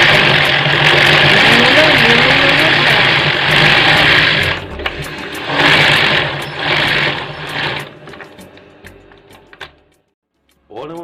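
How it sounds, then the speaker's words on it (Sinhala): A sewing machine winds elastic thread onto a bobbin, giving a steady mechanical whir with ratcheting gear noise in the first half, then bursts of running that thin out near the end, with speech over it. "ඉලාස්ටික් නූල් අරගෙන මේ විදියට දාලා බොබින් එකට මේ දාලා හදට නූල බුරුලට නැතුව හදට ඔතා ගන්න ඕනේ."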